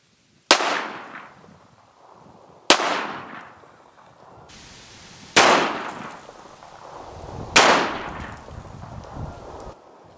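Four loud, sharp 9mm gunshots from G2 Research R.I.P rounds ring out, each followed by a decaying echo, spaced roughly two to three seconds apart with no talking.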